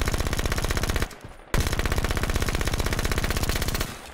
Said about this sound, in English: The SMG is probably the best sounding one.